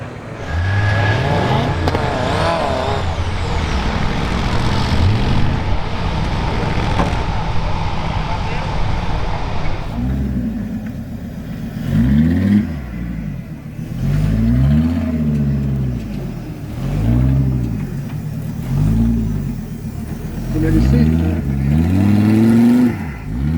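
A UAZ and other off-road vehicles rev and move off along a rough track at a motor festival, engines droning and rising in repeated surges, loud and near, with someone talking over them.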